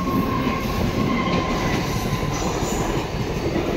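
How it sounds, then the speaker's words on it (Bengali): A train rolls past a level crossing with its gate down, a steady loud roar of wheels and carriages filling the whole stretch, with a faint high wheel squeal riding over the rumble. "এই যে ট্রেন যাচ্ছে।"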